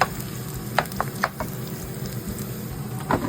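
Sliced garlic and onions fry in a pan with a close, steady sizzle, broken by a few sharp utensil clicks and scrapes as they are stirred; no one speaks.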